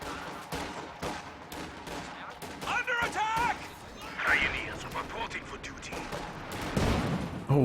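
Pak anti-tank gun firing and hitting in Company of Heroes 2, a loud sharp gunshot crack among scattered battle explosions and gunfire, with a commentator talking over much of it.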